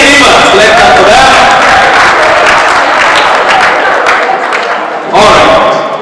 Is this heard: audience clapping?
yes